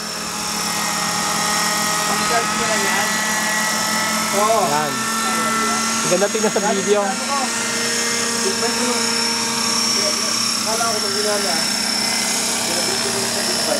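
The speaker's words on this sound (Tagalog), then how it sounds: "It's a very colorful scale helicopter." A scale Bell 222 RC helicopter, built on a Raptor 36, flies nearby with a steady buzzing rotor and engine drone, its pitch wavering as it maneuvers, while people talk over it.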